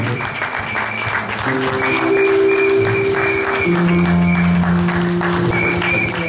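A church congregation applauds the pastor at an evangelical Protestant service, with loud, sustained clapping from a crowd over held keyboard chords and some voices mixed in.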